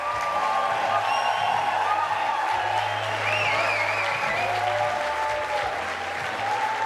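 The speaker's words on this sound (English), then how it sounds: "Please give a round of applause for these ladies." Applause from an audience at the Dock Masters 2025 finals, greeting the women finalists on stage; steady, dense clapping fills the whole stretch with a few voices and cheers mixed in.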